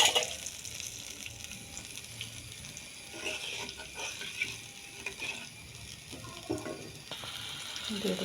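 A strained mustard and cumin paste with chilies goes into hot oil for mustard hilsa, giving a close, crackling sizzle with scraping stirring and occasional clinks, and no talking over it.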